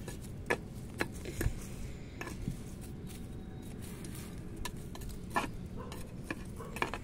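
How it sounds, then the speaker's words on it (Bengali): A small tool pokes and loosens soil at the base of a potted plant, giving soft, irregular scraping and ticking sounds close by, with scattered sharper clicks and no talking. "গাছের গোড়াটা একটু হালকা খুঁচিয়ে নিলাম"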